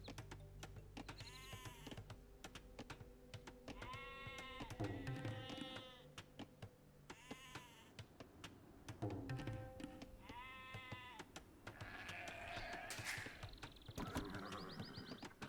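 Sheep bleat in a video game as villagers slaughter them, with several separate, clear cries spread out over steady game ambience and a few faint clicks.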